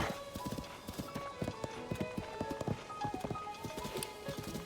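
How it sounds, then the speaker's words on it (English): A ridden horse in a video game trots through a mountain pass. Its hooves clip-clop in a steady, brisk rhythm, close and continuous over the game's ambient music. "I can ride Celeste, my trusty and noble steed, through this pass."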